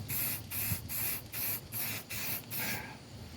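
Spray paint can spraying a two-stroke mower being repainted, seven long hissing bursts in a steady on-off rhythm, close and loud.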